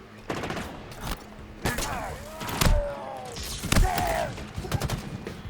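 Stalker rifle fire in the Halo Infinite campaign: several loud, close sci-fi energy shots in an irregular volley, each a sharp blast with a whining zap trailing off, mixed with thuds and impacts from the firefight.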